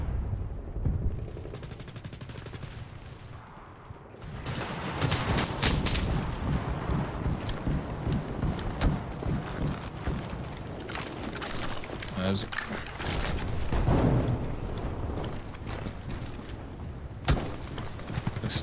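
AK rifle gunfire in an online military vehicle video game, rapid bursts of shots cracking repeatedly amid engine rumble and battle noise, fairly loud, with a player talking throughout.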